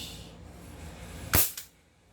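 A single sharp MK1 carbine sniper rifle shot in a video game, one loud crack with a brief ringing tail past the midpoint, standing alone over a low background hum.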